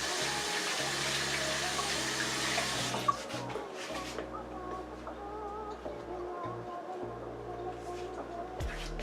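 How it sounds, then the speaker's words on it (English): Running tap water splashes into a sink as hands are washed in a home kitchen, a steady close rush for about three seconds that cuts off, followed by quieter kitchen clatter and handling noises. "let me wash my hands."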